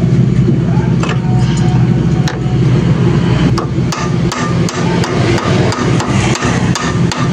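Steady metal hammer strikes seating a bearing on a Yamaha Aerox scooter in a workshop, loud close blows in an irregular rhythm over a constant background hum.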